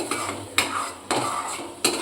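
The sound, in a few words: stirring yogurt into masala in a pan for shahi paneer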